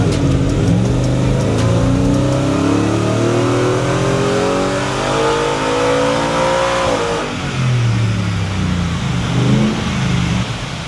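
A 2023 Ford Raptor R engine, tuned, roars loud and close during a dyno pull, pitch climbing steadily through the revs, then dropping off and rising again.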